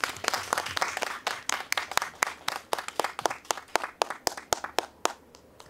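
Applause from the audience at a literary talk show during a literature camp, individual claps clearly distinct and uneven in rhythm, suggesting a modest group clapping close by for several seconds without voices.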